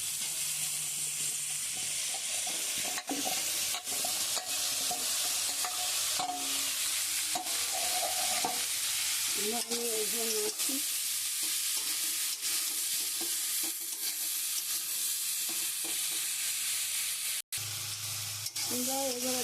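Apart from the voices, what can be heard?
onion, kohlrabi and potato frying and stirred in pan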